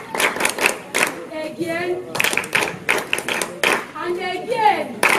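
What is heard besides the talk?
children clapping their hands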